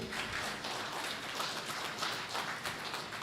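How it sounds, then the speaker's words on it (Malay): Audience applause at a Malaysian entrepreneurship seminar, a steady wash of many hands clapping together throughout, fairly dense and sustained, heard from within the hall with no one speaking. "mohon tepukan boleh?"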